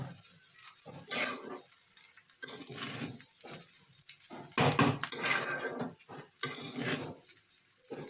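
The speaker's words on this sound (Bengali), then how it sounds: "কোপ্তা দিয়ে দেবো, দিয়ে একটু নাড়িয়ে নেব।" Chicken koftas are added to a pan and stirred, giving bursts of sizzling and frying along with clattering spoon and pan knocks in an irregular rhythm, close and fairly loud.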